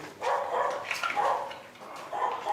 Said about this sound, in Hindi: निशानी है ये कुत्ते भौंकने की